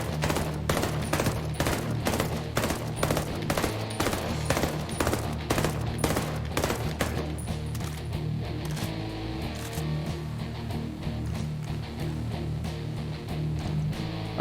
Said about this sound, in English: let's flick it to 3 round burst, and then we'll fire these off as quick as we can